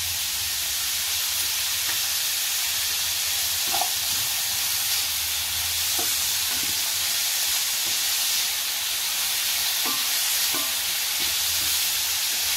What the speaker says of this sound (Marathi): 2-3 मिनिटं चांगला आपलं परतून घ्यायचा आहे कांदा।